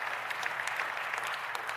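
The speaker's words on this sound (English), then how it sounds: "You can clap, it's okay." A conference crowd at a teamwork product keynote claps briefly, with a steady wash of applause and a few distinct nearer claps over a short moment.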